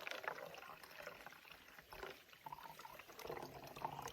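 Water trickling and dripping through a hiking water filter outdoors, a faint steady liquid patter with no talking.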